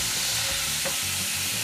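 A pan of garlic sizzles as white wine is splashed in, a steady frying hiss with soft stirring scrapes and a brief burst partway through, fairly quiet with no voices.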